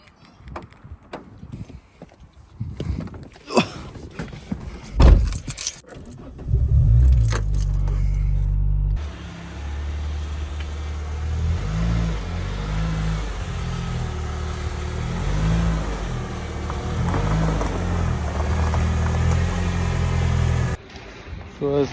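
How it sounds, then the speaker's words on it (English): A Renault Clio is shifted into position: keys jangle and clatter first, then the engine starts and runs at a low, steady idle with a few rises for most of the span before cutting off. "So we'll get the car moved."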